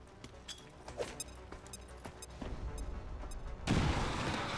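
Grenade blast in XCOM 2: War of the Chosen, killing a sectoid: quiet clicks and game ambience, then a sudden loud explosion that holds as a rumbling roar to the end.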